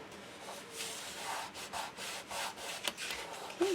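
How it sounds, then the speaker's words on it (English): A paper pocket is burnished down onto a 6x6 baby mini album, a soft, close rubbing and scraping in repeated strokes across the paper, steady and fairly quiet with no talking. "Okay, burnish down"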